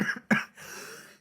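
A person coughs twice in quick succession, close and dry, followed by a brief throat-clearing rasp.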